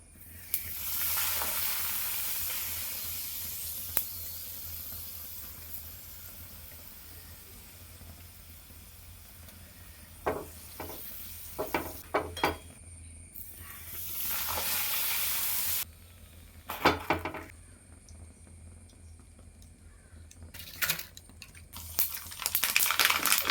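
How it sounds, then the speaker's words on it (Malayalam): Ridge gourd being sautéed in a pan for sambar, a soft continuous sizzle with scattered stirring scrapes and clinks, fairly quiet and without talk. "ഇത് സാമ്പാറിലേക്ക് ചേർക്കാൻ വേണ്ടിയിട്ടാണ് ഞാൻ ഈ വഴറ്റിയെടുക്കുന്നത്"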